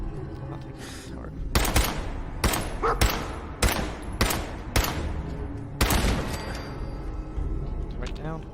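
Gunfire destroys a turret in the video game Fallout 4, with a run of loud, close, sharp shots and bursts spaced irregularly amid game clatter, and a voice speaking over it.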